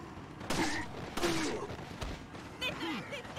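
Pistol fire in Resident Evil 4, set in the village: several sharp, separate shots spaced roughly half a second apart, mixed with in-game shouting voices and a background clatter.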